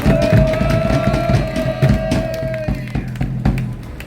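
An outdoor rally crowd calling for an investigation into alleged election fraud breaks into sustained applause with some cheering and a held shout, loud and continuous across the space for about four seconds.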